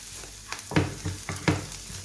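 Raisins and pineapple sizzling and frying in butter in a pan, with a few stirring scrapes and soft crackles rising and falling close by, no voices.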